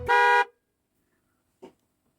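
A car horn gives one loud, sustained half-second blast, then a brief short toot after a pause, close and clear against silence.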